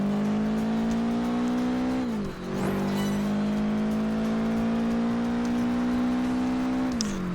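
In Project Gotham Racing 4, a car drives and drifts with a loud steady engine drone whose pitch dips and climbs again as it shifts through gears and slides, with brief tire squeal and no talking.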